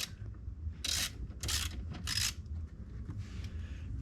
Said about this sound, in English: So I'm gonna be pulling this fuse panel down and take a look at it.